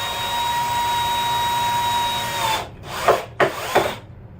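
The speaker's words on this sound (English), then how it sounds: "I'm not really using the full power of this hammer drill right now" Hammer drill running on its lowest setting as it bores into a work table, a steady whining drone that then breaks into a few short, uneven bursts as the bit bites and stops.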